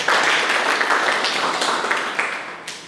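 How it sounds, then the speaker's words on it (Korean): Audience at an academic presentation applauding to welcome a speaker, a dense, loud burst of clapping that gradually thins out toward the end. "여러분 박수로 맞이해주십시오"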